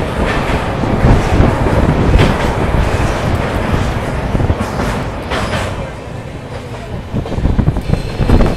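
The Saurashtra Mail passenger train rolls across the Sabarmati river bridge in Ahmedabad, a loud, steady rumble with clattering wheels and a voice talking over the noise.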